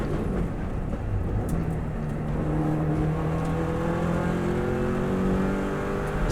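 Subaru WRX STI driving the bumpy Ginger Hall to Ramsey stretch of the Isle of Man TT course, a steady engine drone with rising gear tones and constant road rumble throughout, no talking.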